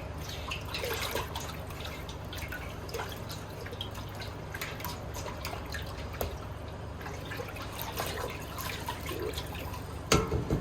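Salt being stirred into a container of water to make a brine for purging clams, giving a steady wet sloshing and dripping with small splashes throughout and a sharper splash near the end, no talking.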